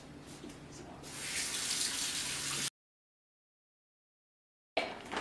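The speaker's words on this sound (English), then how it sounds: "I would recommend washing your hands again, because this is kind of gross" Water from a kitchen tap runs steadily as hands are washed under it, a close hiss that stops abruptly, falls silent for about two seconds, then resumes briefly.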